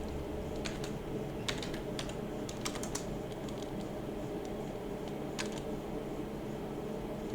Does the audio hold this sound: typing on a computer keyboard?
yes